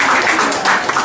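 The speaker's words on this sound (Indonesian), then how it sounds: "tepuk tangan sekali lagi buat" A seminar audience breaks into a short burst of clapping, a brief, loud patter of many hands that stays steady throughout, with a little voice mixed in underneath.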